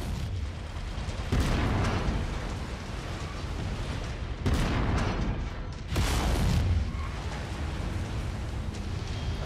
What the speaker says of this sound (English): Blew up all the stuff over here to the left.